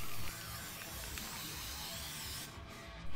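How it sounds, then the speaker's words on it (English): Spray paint hisses onto a cassette tape in a steady, close, continuous spray that cuts briefly near the end and then resumes. "When spraying the tape, I try to spray it all evenly and get the sides"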